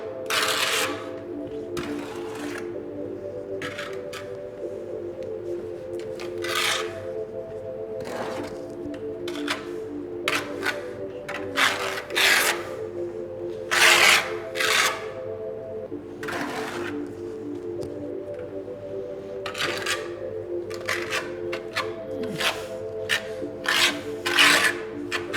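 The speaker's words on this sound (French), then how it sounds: "vous passez juste la truelle" A trowel is dragged flat through tile adhesive in repeated rasping, scraping strokes of uneven length. A low hum runs beneath the strokes, with no talking.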